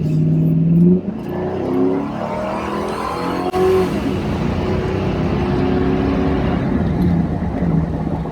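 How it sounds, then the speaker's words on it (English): 2007 Ford Crown Victoria P71 Police Interceptor engine revving hard as it accelerates, heard from inside with the windows down, a loud sustained roar with rising pitch sweeps and a brief shift break midway. "let's drop the windows and hear what this thing sounds like when you get on it"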